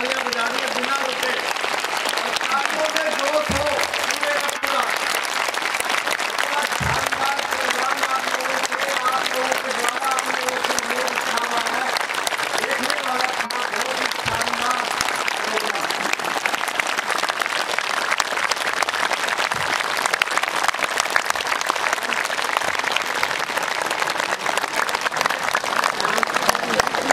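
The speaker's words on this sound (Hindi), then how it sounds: "एक बारी 2 मिनट तक लगातार इनके लिए तालियां बजानी बिना रुके" Sustained audience applause for yoga institute performers at a cultural programme, a loud, unbroken wall of clapping lasting nearly half a minute with faint voices underneath.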